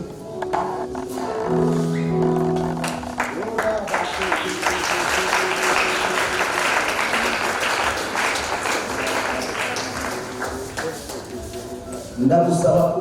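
A church congregation at an anointing ceremony for evangelists and deacons claps in sustained, dense applause lasting several seconds, with a brief musical tone at the start and a louder burst near the end.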